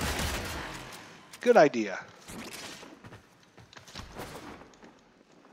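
Enemy gunfire in Warframe rattles in short bursts of sharp shots, loudest in a dense volley near the middle, with a player talking briefly over the action.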